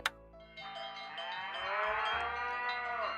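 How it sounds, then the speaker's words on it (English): Cattle moo in a radio advert within a video game: one long, loud, drawn-out low moo follows a sharp click at the start, with no talk over it. "Hear that? That's the sound of happy cattle,"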